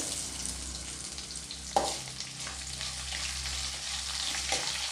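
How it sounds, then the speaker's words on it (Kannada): Onions and urad dal frying in a pan over a low flame for mullangi palya, a steady close sizzle with stirring and one sharp clink of a utensil against the pan, no talk. "ಈರುಳ್ಳಿ ಸ್ವಲ್ಪ ಕಲರ್ ಬರೋ ಹಾಗೆ ಫ್ರೈ ಮಾಡ್ಕೋಬೇಕು."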